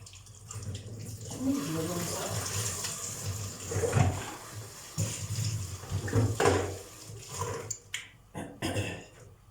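Hands washed under a running kitchen tap at home, a steady stream of water with splashes and rubbing for several seconds, fairly close and moderately loud.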